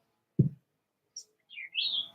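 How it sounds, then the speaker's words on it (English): A dull thump comes first, then an outdoor bird gives a brief chirp and a couple of short sweeping calls, fairly near and alone, with no voices. "it's got the bird over here making noise"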